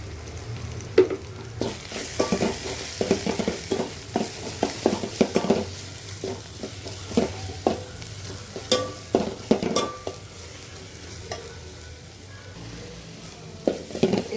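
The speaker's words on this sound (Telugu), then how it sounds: "ఇదిగండి వేసిన మసాలాలన్నీ బాగా వేగినాయి చూడండి" Turmeric, salt and chili powder frying in oil for fish curry, with a spoon stirring briskly: a continuous close sizzle punctuated by rapid scraping and tapping against the pan. No talking.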